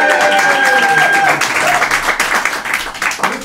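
Audience applause at an Edinburgh Fringe comedy show fills the room as a steady, dense wash of clapping with whoops and crowd noise mixed in, loud throughout.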